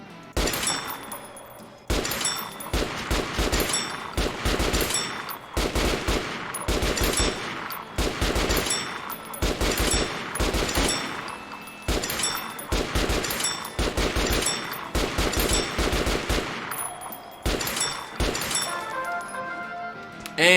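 RPK machine gun fire in the video game Metro Last Light Redux, repeated loud sustained bursts separated by brief pauses, each burst a rapid cracking stream, close and dominant.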